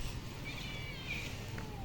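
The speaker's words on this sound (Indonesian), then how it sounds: "Tuh ada kucing-kucing kecil." Small kittens give a couple of faint, thin meows against a quiet, steady room background, with no talk.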